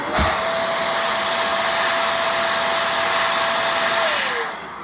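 An electric air duster blows a loud, steady rush of air for about four seconds after a quick start, then winds down as it is switched off.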